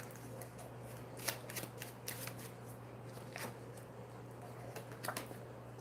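Oracle cards are shuffled by hand during a tarot reading, a soft continuous riffling and flicking with a few sharper snaps, close and quiet over a low steady hum.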